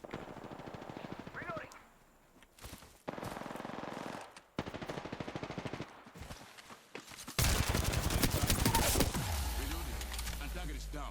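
Gunfire in a first-person shooter video game: bursts of rapid automatic shots in separate volleys, then a heavier loud sustained stretch near the end, with a voice talking over parts of it.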